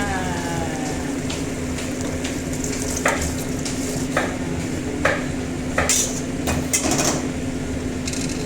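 Cabbage stir-fried in a pan with a little water gives a constant sizzle and steam hiss, broken by scattered scraping and clinking strokes of a utensil against the pan as it is mixed.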